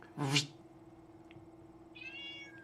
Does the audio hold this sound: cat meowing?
yes